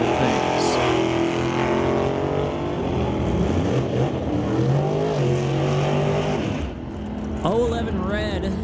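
Drag racing engines roar at an NHRA event as a red 1927 Ford T-Bucket runs against a Mustang, loud continuous engine drone with revving pitch sweeps near the end, under a steady announcer's commentary.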